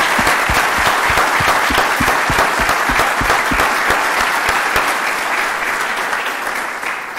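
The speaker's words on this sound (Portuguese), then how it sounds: "E ia pedir-lhes mais uma salva de palmas." A round of applause from the audience at a PMI Portugal Toastmasters session, following a talk by Ricardo Vargas: loud, close clapping with distinct sharp claps in the mix, sustained and then gradually tapering off.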